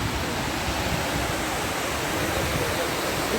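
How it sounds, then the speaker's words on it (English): Water pours steadily into the 9/11 Memorial pool, a constant broadband wash of falling water with no breaks, loud and close, filling the whole stretch without voices. "It's always like a waterfall here, nothing to do with the rain."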